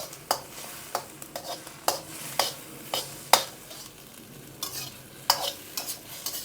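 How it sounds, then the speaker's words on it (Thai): Egg beaten with a ladle in a pan over low heat while cooking Thai stir-fried liang greens with garlic, giving repeated scraping clacks at a steady rhythm over a faint sizzle, close and moderately loud, with no speech. "ใส่ไข่ลงไปแล้วเอาทัพพี ตี ตีมันค่ะ ไฟ อ่อน ๆ นะคะ"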